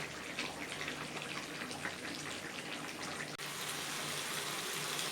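Hot water poured into country chicken curry as it cooks down, a continuous close rushing pour that cuts off abruptly, leaving a quieter hiss behind.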